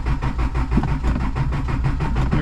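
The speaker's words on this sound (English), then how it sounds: "Sometimes these carbureted 22REs take a while to start, but they've been sitting." A carbureted Toyota 22RE engine on a 4x4 camper turns over and settles into a steady, rough idle, with a loud, close low rumble that pulses evenly throughout.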